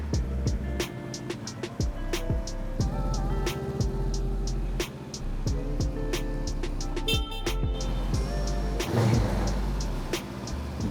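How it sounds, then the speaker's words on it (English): A motorbike engine runs up indoors in a service workshop, a steady mechanical drone with shifting engine tones and rising revs, plus clicks and clanks nearby. "I'm going to run the bike up"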